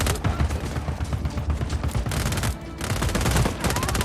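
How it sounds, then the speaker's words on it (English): Sustained gunfire from a Just Cause 4 firefight, dense bursts of rapid automatic shots and scattered bangs rattling continuously and loudly with no pauses. "Opening fire!"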